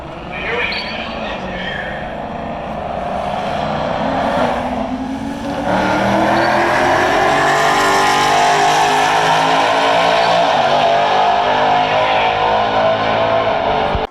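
A race car launching in a roll race, its engine roaring loud and close and building in pitch as it accelerates hard, with a brief dip partway through before surging on at full volume.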